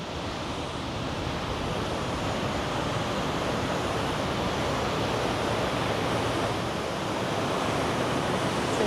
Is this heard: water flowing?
yes